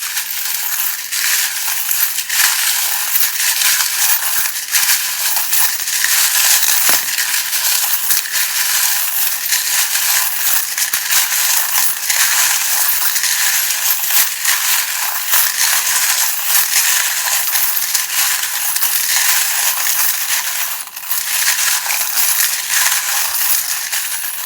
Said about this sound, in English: if you don't like the sound of the charms being shuffled